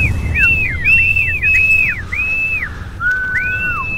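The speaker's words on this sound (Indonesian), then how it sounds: "Ritual siulan pemanggil angin." A person whistles a repeated sliding tune, several short rising-and-falling phrases, clear and close against a low background hum.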